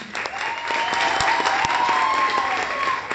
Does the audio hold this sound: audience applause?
yes